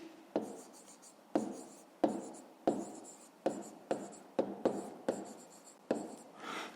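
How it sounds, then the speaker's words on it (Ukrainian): A pen writes on paper during a fifth-grade math lesson, a string of about a dozen close, distinct scratching strokes with short gaps between them, quiet and unaccompanied by talk. "Ну що ж, записуємо тоді відповідь."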